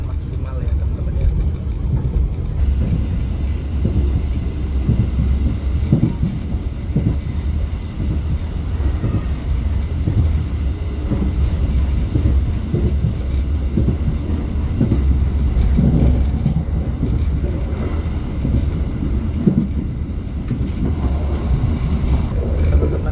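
A Logawa economy-class passenger train rolls along the rails, heard from inside the carriage as a steady, loud low rumble with rhythmic wheel clatter for the whole stretch.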